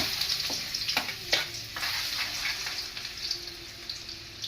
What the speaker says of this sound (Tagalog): Ayun mga idol, igigisa na natin.